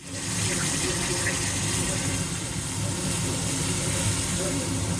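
Cumin seeds and ginger frying in hot oil, giving a continuous loud hissing sizzle that holds evenly from start to finish, close up and uninterrupted.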